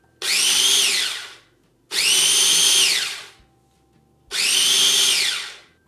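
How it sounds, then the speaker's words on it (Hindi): An electric grinder coarsely grinds roasted sesame seeds in three separate bursts of about one and a half seconds each, a loud whirring roar that starts abruptly and winds down between pulses, with no voices. "तिल ठंडे हो गए हैं, अब हम इनको कोर्सली ग्राइंड करेंगे।"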